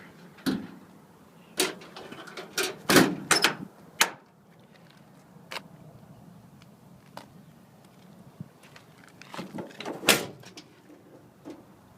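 Several sharp metallic clunks and bangs of a 1996 Ford F350 diesel pickup truck door being opened and closed, scattered over about twelve seconds with quiet gaps between.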